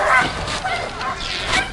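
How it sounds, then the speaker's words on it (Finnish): A dog at a harness racing event gives short whimpering yips and soft barks in a few bursts, close and fairly loud over a murmuring crowd background. "siinä on terävänäköinen koira, korvat pystyssä"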